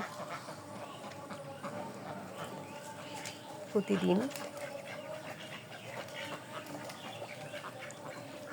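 Khaki Campbell ducks on a farm give a short cluster of quacks midway, faint and somewhat distant, while someone speaks over the low background noise.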